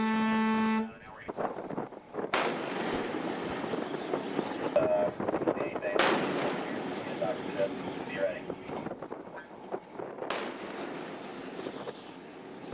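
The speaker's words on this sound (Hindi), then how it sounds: "जरा इन गोलियों की तड़तड़ाहट भी सुनिए कि ये कैसा सीज फायर था जिसका उल्लंघन इस दौरान किया गया" Gunfire during a ceasefire violation sounds as a few sharp, loud shots spaced several seconds apart. A brief horn-like tone comes first, and voices are heard.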